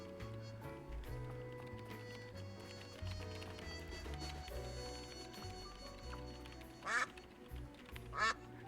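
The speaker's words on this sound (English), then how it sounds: "Yeah, there's a quack button." A duck quack button in the video game Duck Detective gives two short cartoon quacks near the end, over a quiet looping game music bed.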